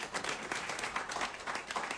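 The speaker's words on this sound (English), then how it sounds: "I think you should give us a round of applause." Moderately faint, steady applause from a crowd at a vocational skills training graduation, many hands clapping together in an even, continuous patter.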